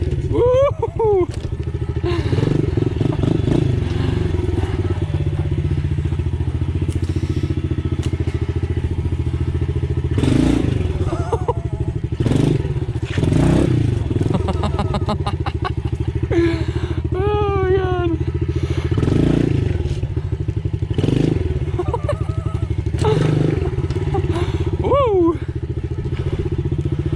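A pit bike motorcycle being ridden, its small engine revving up and down in repeated bursts with thuds and clatter between, close and loud, with occasional voices.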